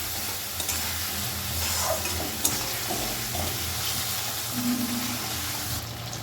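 A spice paste with coriander powder sautéing in a pan over a low flame, a gentle steady sizzle with light stirring and a faint watery bubbling, no talk.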